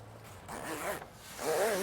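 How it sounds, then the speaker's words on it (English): A big black zip on a Comfortz Sun Shadz awning side panel is pulled shut in a few quick, rasping strokes close by, with a voice murmuring briefly. "Zip this up then."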